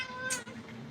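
A cat mid-grooming lets out a single clear meow, close and fairly loud, during a lion-cut shave session, with no talk over it.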